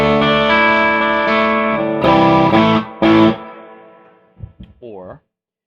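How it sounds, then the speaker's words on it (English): Electric guitar played through a WMD Arcane preamp pedal set for light distortion, sustained chords ringing out with a gritty edge, a couple of louder strums, then decaying into short picked notes and a brief bend. "we can get lighter distortion textures with it"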